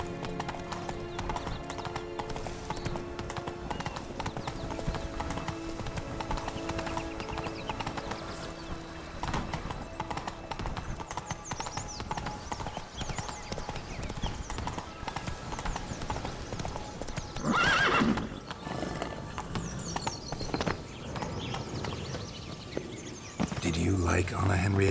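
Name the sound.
horse Roach hooves and neigh, video game The Witcher 3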